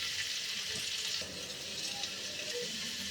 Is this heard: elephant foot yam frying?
yes